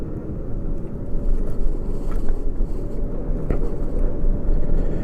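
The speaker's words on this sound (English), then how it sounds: "I'm floored right now, and it takes a little while to get up to speed." A Kaabo Wolf King electric scooter accelerates slowly at full throttle in gear 1, giving a steady low whir mixed with heavy wind rumble across the microphone, loud and continuous throughout.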